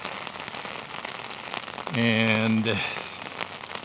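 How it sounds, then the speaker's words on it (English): Steady heavy rain drums on an umbrella right overhead, a dense close patter throughout, briefly joined by a passing tonal sound midway. "It's kind of noisy with this rain on the umbrella."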